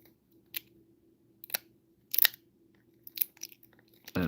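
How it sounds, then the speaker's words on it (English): A plastic screen protector crunches in several short, sharp crackles at irregular intervals, fairly quiet against a low steady hum, ending in a louder rustle. "That is not the shell or the ribbon that you hear crunching. That's just the screen protector"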